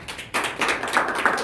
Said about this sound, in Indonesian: Tepuk tangan untuk Pak Ibu